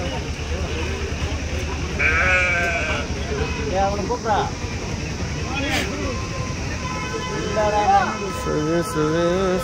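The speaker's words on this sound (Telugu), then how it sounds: "మేకలు, పెద్ద మేకలు." Several goats bleat repeatedly at a goat market in Kadiri ahead of Bakrid, wavering cries near and loud, while people talk over and between the calls.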